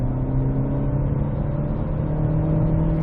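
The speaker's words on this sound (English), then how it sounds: "We'll do a little bit of hard acceleration." A Nissan Juke Hybrid accelerates hard in sport mode, its petrol engine holding a loud, steady droning hum heard from inside the car with no talking.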